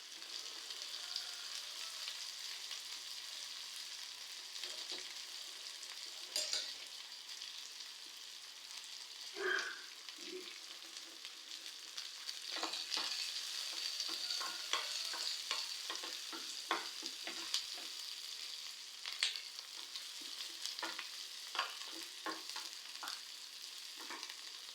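Onions and green chillies fry steadily in a pan for a green moong dal curry, a constant close sizzle broken by scraping stirs and occasional clinks of the spoon.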